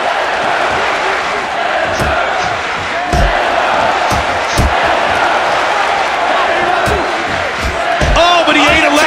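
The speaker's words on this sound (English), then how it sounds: "The crowd showing their support for Brock Lesnar." An arena crowd at a UFC fight cheers and roars steadily, loud and dense, with occasional thuds and a commentator talking over it.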